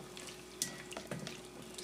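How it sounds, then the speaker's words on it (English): Water being poured into a cooking pot on a stove for a Doritos corn side dish, a soft running trickle with a few faint splashes and drips, quiet and close, with no speech. "So I'm just gonna add some more water to it."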